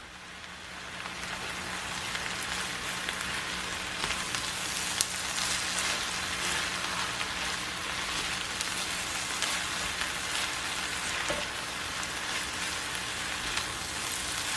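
Chopped eggplant frying in a pan, a steady close sizzle and crackle that holds an even level the whole time, with no voices.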